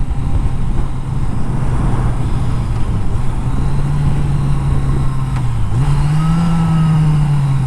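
A 1982 Yamaha Seca XJ650 motorcycle engine drones steadily while riding, its pitch holding level and then rising briefly as the bike picks up revs, loud and close with wind rush and no talk.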